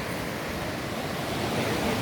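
A river rushing down from the Khaliqdad valley pours loudly over a high drop, making a steady, broadband roar of falling water that fills the whole scene without a break, with no voices heard.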